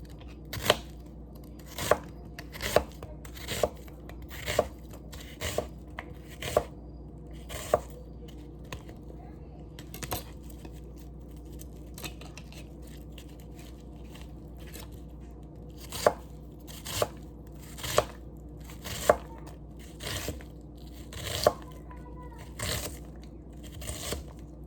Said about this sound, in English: you're gonna wanna cut it up into squares